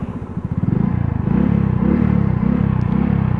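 Motorcycle engine revving up close, a rapid pulsing idle that rises into sustained loud revs with rhythmic throttle surges.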